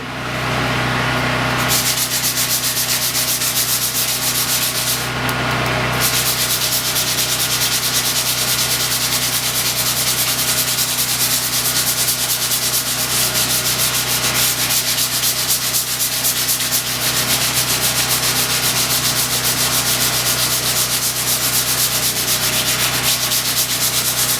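Steady, continuous abrasive sanding of mill scale off a steel plate, loud and close, running without pause for the whole stretch with no voices.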